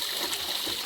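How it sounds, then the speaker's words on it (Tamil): Water splashes steadily onto soaking raw rice and fenugreek in a bowl, a brief, close pouring rush. "தண்ணி ஊற்றிக்கலாம்."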